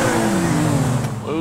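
A Grotti Carbonizzare sports car revving to warm its tires before a drag race in Grand Theft Auto V, a loud, close engine drone that dips and climbs again, with people talking over it.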